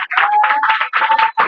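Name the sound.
congregation clapping in church service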